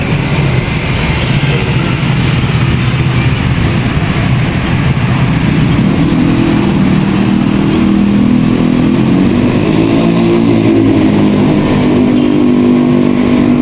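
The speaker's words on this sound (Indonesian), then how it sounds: "Walaupunnya masih banyak motor dan kendaraan." Motorcycles and cars pass through a traffic-light intersection in Jakarta, a loud continuous engine drone with rising revs as vehicles pull away, no talk over it.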